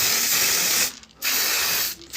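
A spray can sprays lacquer in two long loud hissing bursts split by a short pause, with a final burst starting at the end, close and without talk.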